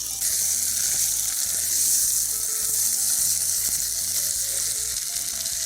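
Seeds fry in a pan with crushed garlic, a loud, close, even sizzle that holds steady throughout, with no talking.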